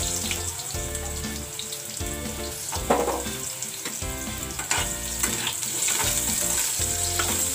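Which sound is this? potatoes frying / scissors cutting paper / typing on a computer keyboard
potatoes frying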